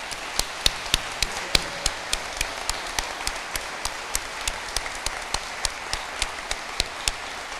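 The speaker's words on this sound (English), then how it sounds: "Can we please give this amazing foundation a huge round of applause?" A crowd applauds steadily at a charity event honouring a foundation, dense clapping with sharp individual claps standing out, sustained and fairly loud with no talking over it.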